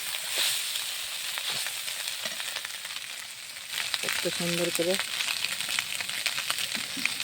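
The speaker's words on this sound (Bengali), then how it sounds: "এই মাছ ভাজা সুন্দর করে ভেজে নিই" Whole small puti fish frying in a pan with sliced onion and chilli, a steady close sizzle running throughout, with a brief spoken remark over it partway through.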